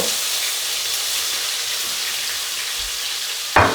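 Shrimp frying in a hot pan, a steady close sizzle and hiss that flares sharply louder near the end as more food hits the oil.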